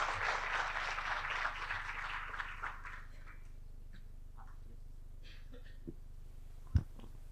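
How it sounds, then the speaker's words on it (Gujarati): Audience applause at a Gujarat Media Club event welcomes a senior journalist, a brief burst of clapping lasting about three seconds before fading into a quiet room with a few faint knocks. "ખૂબ તાળીઓના સન્માન સાથે એમને આવકારીએ"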